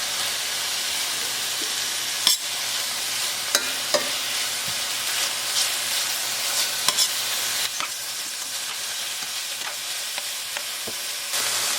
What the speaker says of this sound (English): The first thing I'm going to start cooking is my pork.